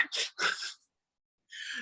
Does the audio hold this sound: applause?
no